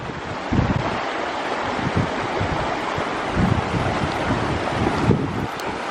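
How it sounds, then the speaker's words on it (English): An outdoor waterfall pouring into freezing cold water on a nature walk gives a steady, loud, close rush of broadband noise, with gusts of wind buffeting the microphone and no voices. "Jairi, ride the waterfall."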